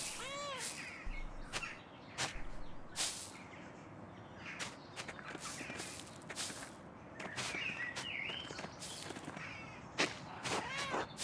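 A cat meows repeatedly in the video game Pentiment, short rising-falling cries scattered among footsteps and soft ambient sounds, fairly close and clear.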